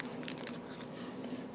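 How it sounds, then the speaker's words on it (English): A knife cuts through a Reese's peanut butter cup with a faint, brief crunch and a few crackly snaps, quiet and close. "First thing I notice is it's crunching."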